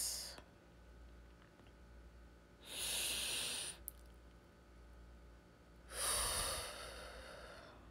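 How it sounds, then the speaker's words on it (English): Two deep, noisy breaths, each a long drawn inhale or exhale a few seconds apart, close and clear over a steady low hum. "Deep breath."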